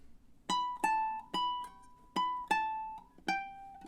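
Soft, fairly quiet ukulele fingerstyle picking of a cheerful summer melody: six or seven distinct plucked notes and chords in a steady pulse, each ringing briefly, with no voices.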